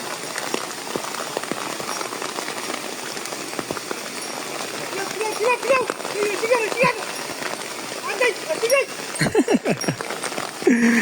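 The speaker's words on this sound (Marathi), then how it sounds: "आता पाऊस पडतो आहे टायमाला" Steady rain patters on a surface throughout, with people talking over it toward the end, during rice planting in a Konkan paddy field.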